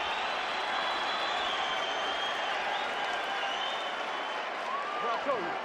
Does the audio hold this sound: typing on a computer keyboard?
no